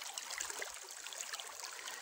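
A river stream flows steadily in the background, a faint continuous rushing and trickling of water with no voices.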